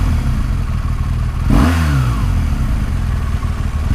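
A BMW R 1200 GS Rallye motorcycle accelerates, its engine note rising sharply in a brief rev over a loud, steady background rush of riding noise.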